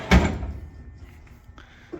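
A tool chest drawer in an industrial shop slams shut with one loud thud near the start, followed by faint rattling and quiet room noise, with no talk.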